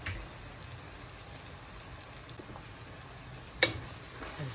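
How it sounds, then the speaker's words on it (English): Fried rice with vegetables frying in a pan as beaten egg is mixed in, a faint, steady crackle like light rain, with one brief sharp scrape of a utensil near the end. "So I'm going to mix up my egg, throw it on my fried rice, in my vegetable."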